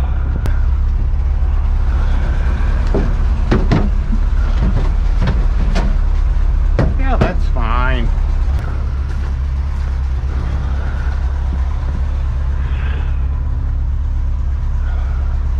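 A 1959 Chevy Apache Napco 4x4 truck engine runs steadily at idle, a loud continuous rumble throughout with scattered clicks and knocks and a brief rising whine midway.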